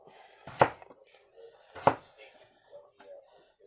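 A sharp Fallkniven A1 knife slicing food on a board, with three distinct, spaced chopping strikes standing out clearly against a quiet background.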